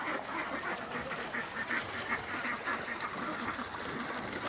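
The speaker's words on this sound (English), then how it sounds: "I'll let you watch the ducks there for a moment" A flock of farm ducks near a pond keeps up a continuous, fairly distant babble of quacks and honk-like calls, steady and unbroken throughout.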